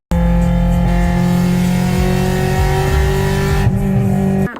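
A Honda VTEC engine revs hard and holds at high RPM, a loud, steady, near mechanical wail with strong harmonics that runs unbroken for several seconds before cutting off, with no talk over it.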